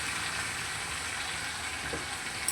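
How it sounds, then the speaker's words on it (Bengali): Chicken pieces lightly frying in oil in a pan, a soft continuous sizzle at low level with no talking. "আজকে চিকেনটাকে একটু হালকা করে একটু ভেজে তুলে নেবো"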